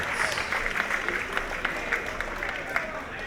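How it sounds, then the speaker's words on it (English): Crowd applause rolls through a boxing venue at a cruiserweight fight night in Baytown, with steady clapping and scattered sharper claps at moderate distance and a voice faintly over it. "How about a huge round of applause for these cruiserweights in the ring"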